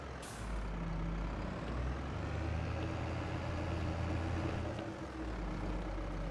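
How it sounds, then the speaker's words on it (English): A tractor engine in a video game drives with a steady, loud low rumble throughout, with a brief hissing burst near the start and a slight dip toward the end, no voices. "Let's use this tractor."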